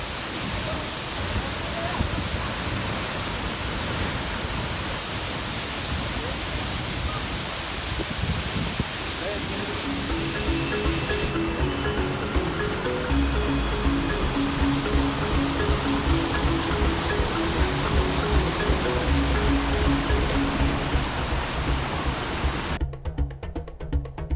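Continuous broadband rush of a waterfall in Costa Rica, loud and close, thickening into a heavier roar partway through, with faint voices mixed in.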